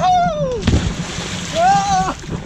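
A single splash rings out as someone dives onto an inflatable unicorn float in a small pool set inside a larger outdoor pool, with excited voices and squeals around it.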